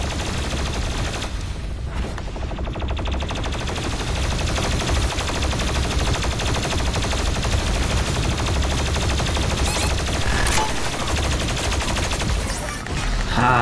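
The BFG 10,000 superweapon fires in the video game DOOM Eternal, a dense, continuous roar of blasting and crackling that holds at full loudness for over ten seconds with no pause.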